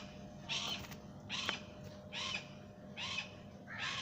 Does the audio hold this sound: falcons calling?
yes